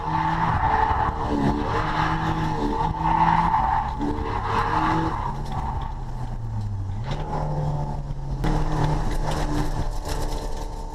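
A drift car on a track day slides with sustained tire squeal while the engine drones and revs underneath, the screech wavering in pitch through transitions across several seconds, loud and close.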